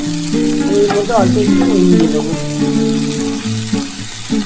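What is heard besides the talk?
onions frying in hot oil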